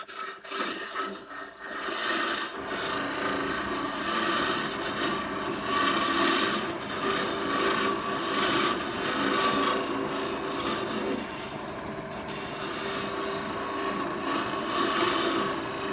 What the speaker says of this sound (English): this is a carbide with a small tip on it. That's designed to go deep hollowing like this.